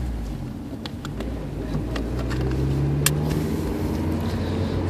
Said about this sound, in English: Look at Kate driving the S2000